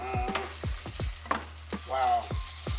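Food sizzling and frying in a pan with a cooking sauce, with stirring scrapes and clattery hits recurring in a quick rhythm, loud and close with no talking.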